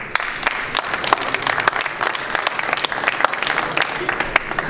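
Audience applause at a conference session as the next presenting team is introduced, a steady dense patter of many hands clapping throughout, fairly close and filling the room.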